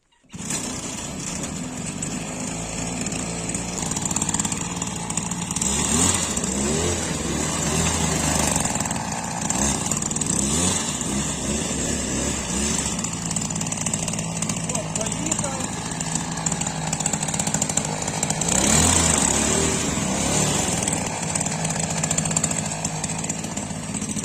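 A small two-stroke brush cutter engine drives a homemade motorized garden dump cart, droning steadily at close range with rising and falling throttle throughout, with someone talking intermittently.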